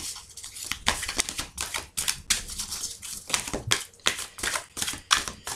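A deck of oracle cards is shuffled for a tarot reading, with dense, rapid riffling bursts repeating in quick succession close by, loud and continuous without speech.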